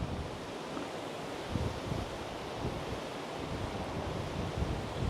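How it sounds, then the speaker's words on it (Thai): Strong wind roars steadily outdoors at Thong Pha Phum National Park in Kanchanaburi on a cold morning, a dense continuous rush with low buffeting gusts hitting the microphone, no voices. "ได้ยินเสียงลมไหมคะ"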